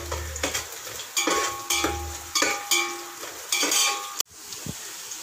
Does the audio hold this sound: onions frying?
yes